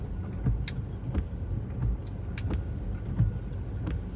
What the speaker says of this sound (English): I see that car, but it's still going